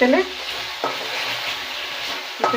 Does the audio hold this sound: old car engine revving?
no